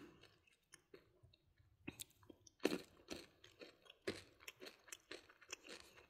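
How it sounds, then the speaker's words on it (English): Peanut M&M's chocolate candies with whole peanuts are crunched and chewed close to the mic, giving a run of sharp, irregular crackly bites and softer mastication sounds in a quiet room without talking. "The outside adds a little crackly crumbliness."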